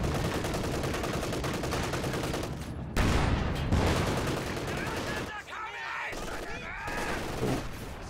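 Battle gunfire in the video game Company of Heroes 2, with dense, continuous crackling small-arms and machine-gun fire layered with heavier bursts, loud and unbroken throughout.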